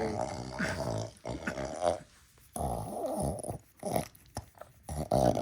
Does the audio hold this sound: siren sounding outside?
no